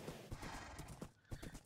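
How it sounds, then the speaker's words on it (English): Horse trotting and neighing in the Minecraft video game: quick, steady clip-clop of hooves close by, mixed with a whinny, with no talk. "I found this horse"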